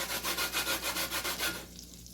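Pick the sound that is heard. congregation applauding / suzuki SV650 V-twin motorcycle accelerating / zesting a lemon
zesting a lemon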